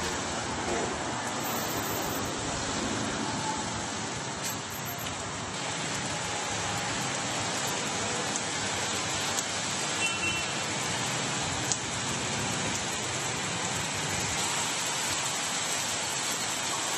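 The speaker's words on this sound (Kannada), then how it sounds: "ತುಮಕೂರು ಜಿಲ್ಲೆಯಾದ್ಯಂತ ಬಿರುಗಾಳಿ ಸಹಿತ ಮಳೆ ಆಗ್ತಿದ್ದು" Heavy rain driven by strong wind in Tumakuru district, Karnataka, pours as a dense, unbroken roar and hiss, loud and steady throughout, with no voices.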